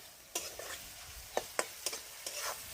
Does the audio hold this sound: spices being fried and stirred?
yes